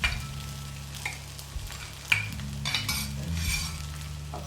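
A sago and peanut mixture tumbles into potatoes frying in a pan and is stirred, with a steady sizzle under scraping utensil strokes and light metallic knocks, close and fairly loud.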